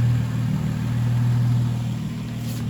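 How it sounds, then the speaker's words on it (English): A 7th-generation Nissan Maxima engine runs just after a CVT transmission fluid change, giving a steady, close, low idling hum that holds even and unbroken with no one talking. "Okay, the car's on, it's alive. So far it's running good."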